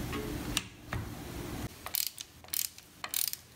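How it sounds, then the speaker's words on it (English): A wrench or ratchet loosens and retightens nuts on motorcycle studs during a Shovelhead Lowrider restoration: close, quiet metallic clicking and ratcheting in short bursts and irregular clusters, with no talking. "I'm loosening up one, I'm retightening it down"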